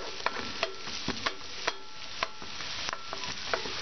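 Chopped onion softening in a pan over heat, a steady low sizzle with frequent sharp clicks and taps of a spoon stirring and scraping, close and moderately loud with no voices.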